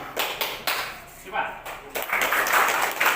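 Participants in a social-emotional learning activity clap in short bursts, several sharp claps at uneven intervals, with a voice speaking briefly among them.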